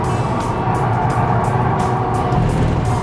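An Audi A3 pulling hard through a corner on a circuit, its engine droning steadily at sustained throttle, broadband road and wind noise filling the sound evenly, with no one speaking.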